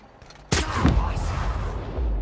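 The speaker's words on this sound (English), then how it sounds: "There are all the explosions, all the shooting." Gunfire and explosions in the video game The Outer Worlds, a sudden loud blast followed by a dense, sustained roar of shooting and booms.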